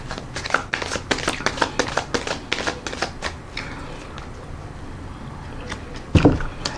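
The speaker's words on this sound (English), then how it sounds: "put another shuffle and rifle on the deck." Tarot card deck shuffled and riffled by hand, a rapid series of crisp papery flutters and riffs in bursts, close up, ending with a sharp tap of the deck.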